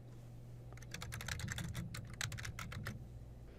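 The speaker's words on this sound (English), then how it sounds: "Now that I've typed in my terms" Search terms typed on a computer keyboard: a quick run of crisp key clicks, close and fairly quiet, with an irregular rhythm and no voices.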